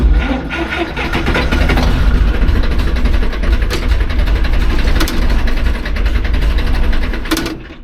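A cold vehicle engine has its throttle opened and runs loud and close, with a steady, dense rattling drone and no clear rise or fall in pitch.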